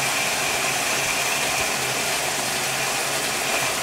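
An aquarium gravel vacuum works through tank gravel, heard as a loud, steady broadband rush and hum with no breaks or talking.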